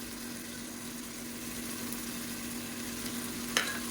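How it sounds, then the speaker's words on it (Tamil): Ginger paste sizzles steadily in hot oil while being sautéed for mutton biryani, a soft continuous frying hiss with a faint hum beneath and a brief clink near the end. "இஞ்சி வந்து சீக்கிரமாகவே வதங்கிடும்."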